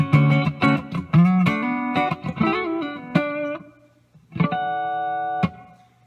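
Electric guitar played through a Big Sky reverb pedal on a short setting: a quick run of plucked notes with a little space around them, a pause, then a chord struck and left to ring before a final accent.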